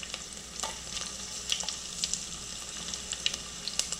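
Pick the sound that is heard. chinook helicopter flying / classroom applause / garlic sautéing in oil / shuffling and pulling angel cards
garlic sautéing in oil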